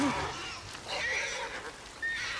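A horse in the Ghost of Yotei video game gives a short neigh at the start, followed by faint hoof clops and ambient game sounds during a duel scene.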